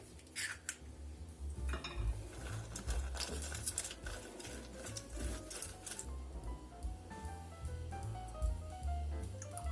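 Eggs cracked and lemon squeezed into lemon crinkle cookie dough in a kitchen, with a run of soft clinks, taps and wet squishing, fairly quiet and close, no talking.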